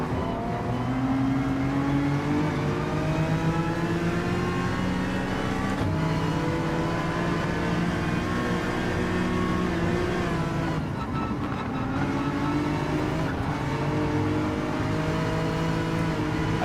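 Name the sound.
Honda NSX race car engine in Gran Turismo 7 video game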